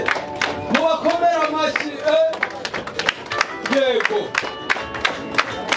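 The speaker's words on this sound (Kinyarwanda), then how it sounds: "Mubakomere amashyi." Wedding guests at a religious ceremony and reception clapping in scattered, uneven bursts, with ringing voices and singing-like tones woven over the applause as the crowd cheers on and off.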